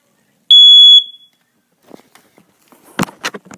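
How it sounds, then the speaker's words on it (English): A smoke alarm going off in a tiny room filled with smoke gives a single loud, piercing half-second beep, followed by faint rustling and handling noises. "This is what the fire alarm looks like."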